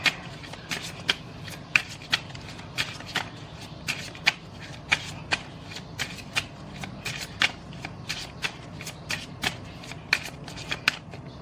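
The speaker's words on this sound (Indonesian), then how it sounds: "Aku shuffle dulu kartunya." Tarot cards are shuffled by hand close up, a long series of crisp riffling snaps repeating at a quick, fairly even rhythm against a quiet background.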